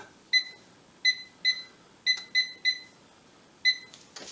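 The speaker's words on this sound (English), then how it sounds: "I'll reset the timer." A kitchen timer being reset while baking apple crisp gives a series of sharp electronic beeps, seven short chirps at uneven intervals, clear and close in a quiet room.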